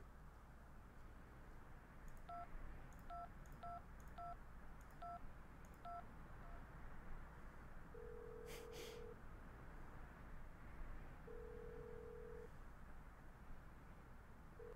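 A cell phone is dialed in the video game Syberia II: a quick run of about eight key-tone beeps, then a ringback tone purring twice at a steady pace over low background noise.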